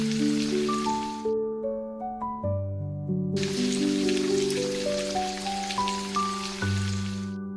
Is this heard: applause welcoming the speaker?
no